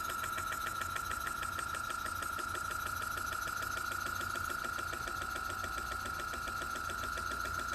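A small brass, aluminium and steel single-cylinder, single-acting horizontal spool valve model engine runs on compressed air from an old airbrush compressor, giving a steady rapid chuffing and whirring hum, continuous and fairly faint, with no voices.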